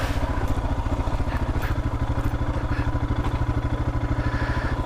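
Motorcycle ridden over a bumpy, rutted green lane, its engine thumping in a fast steady pulse close by, with rattles and clatter from the rough ground and no talk.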